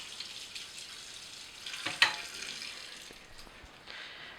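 A short wet splash and brief drip of water onto a brayer around the middle, over a faint steady hiss, with no talking.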